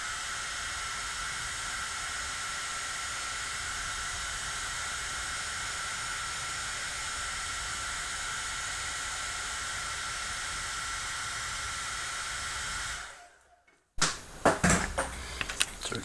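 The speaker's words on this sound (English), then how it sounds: "that hair dryer is probably one of my most used tools in the shop" A hair dryer blows a steady, loud broadband hiss for about thirteen seconds while drying paint on a 1/3788-scale USS Enterprise model, then cuts off abruptly, followed by brief clattering handling noises.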